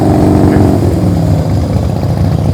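A motorcycle engine revs up and down through the rpm range during slow-speed riding practice, loud and near, with the pitch rising and falling steadily and no voices.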